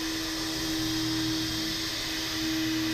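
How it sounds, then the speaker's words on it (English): A HAAS VM3 milling machine cuts hardened steel with a continuous loud whirring whine and steady tonal hum, unbroken across the whole stretch with no talk. "Seeing the machine move like this, see it cut steel that is so hard"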